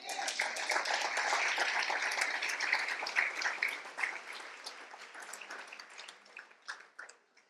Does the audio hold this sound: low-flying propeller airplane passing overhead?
no